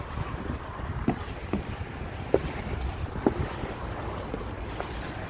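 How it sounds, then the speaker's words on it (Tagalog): A small boat carries riders out on the water along a corniche, with steady wind buffeting the microphone and a low engine drone, broken by a few knocks and slaps from the hull. "50 lang at tayo sasakay ng bangka"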